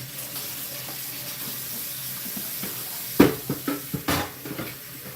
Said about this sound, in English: You're gonna fill up your Brita water filter with cold water to be filtered.